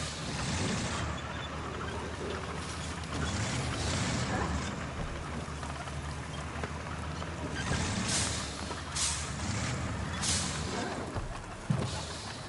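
Heavy tank engine rumble and broad hissing noise throughout in a video game, with a few sharp bursts of air-brake release standing out near the end.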